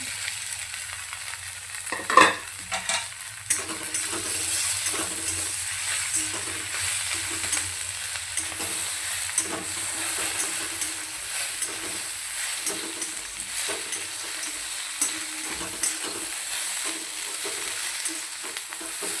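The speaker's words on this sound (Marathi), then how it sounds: "यावरती आपण भेंडी ॲड करूया" Okra (bhindi) for a Maharashtrian-style sabzi hits the hot pan with a sharp burst, then fries with a steady hiss while a spoon stirs and scrapes at intervals.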